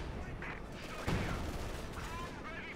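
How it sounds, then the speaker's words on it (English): Artillery strike in Company of Heroes 2, a faint impact thump midway among scattered distant gunfire and battle noise, with a caster's voice over it. "Artillery strike."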